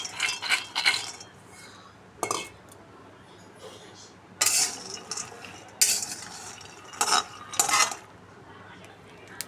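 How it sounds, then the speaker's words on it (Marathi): Peanuts are dry-roasted in a hot iron wok, stirred with a spatula that scrapes and clinks against the metal in irregular bursts over a soft background hiss. "लोखंडाची कढई मस्त गरम करून घेतली। आपण त्याच्यात आता शेंगदाणे भाजून घेऊ।"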